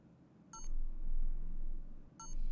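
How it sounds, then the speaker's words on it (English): Two short electronic beeps from Batman The Telltale Series, spaced nearly two seconds apart over a low background hum. "Something's beeping."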